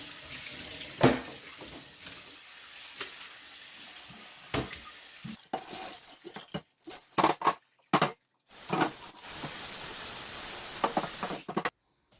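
Running water from a kitchen tap pours steadily while leftover coffee is tipped out and dishes are washed up, with sharp clinks and clatters of crockery and brief pauses where the flow stops.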